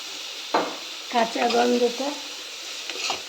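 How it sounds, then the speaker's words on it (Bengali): Garlic paste sizzles steadily in hot oil in a pan, a close, continuous crackle with a few brief tonal clatters partway through. "এটা ততক্ষণ ভাজবো যতক্ষণ রসুনের কাঁচা গন্ধটা"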